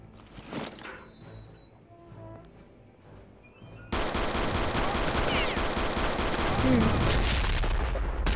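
Rocket launcher blast and sustained gunfire from a RealRTCW co-op firefight, a Panzerfaust used by enemies, with loud dense shooting and explosions filling the second half after quieter game sounds and voices.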